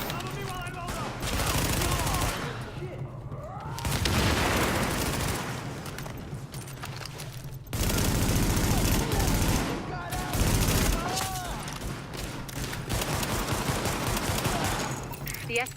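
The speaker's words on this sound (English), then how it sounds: "The escort party's taking heavy fire from the roof." Sustained gunfire from a rooftop gunner in The Division, loud dense volleys rolling on and off with a few quieter gaps, under occasional game voices.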